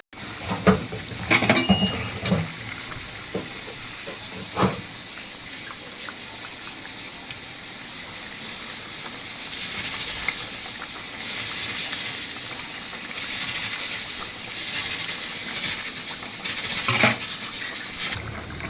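Rohu fish pieces fry in hot oil in a pan, with a few clattering drops near the start followed by a moderate, continuous sizzle and hiss that swells slightly toward the end.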